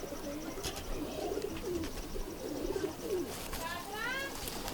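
Soft, low pigeon coos rolling in repeated bursts, fairly quiet and close, with some faint voices and chirps in the background.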